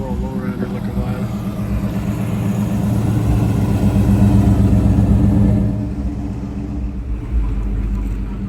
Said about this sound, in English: Nice trucks coming through here.